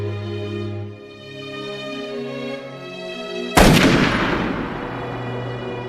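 A single sharp gunshot from a handgun fired at close range cracks out loud midway, abruptly cutting off quiet sustained music and leaving a lingering ringing tail; no voices.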